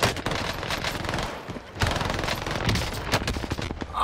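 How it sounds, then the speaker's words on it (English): Sustained gunfire in Call of Duty Warzone on Rebirth Island rattles out as dense, rapid automatic bursts, nearly continuous with a brief lull midway, loud and close. "Sustaining fire."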